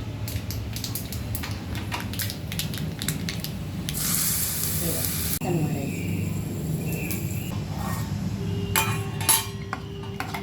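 Tempering sizzles in hot oil, with a loud hissing burst partway through beneath ongoing talk and occasional light clinks.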